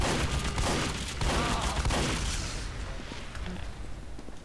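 A level 2 sentry gun fires in Team Fortress 2 with a rapid, dense rattle of shots for about two seconds. The fire then trails off into quieter game ambience.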